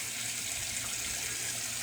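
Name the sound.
tap running cold water for wet shaving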